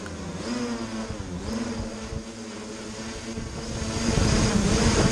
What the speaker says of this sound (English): a lot of the shaking here is just from the quadcopter dealing with the extra weight of the camera on the bottom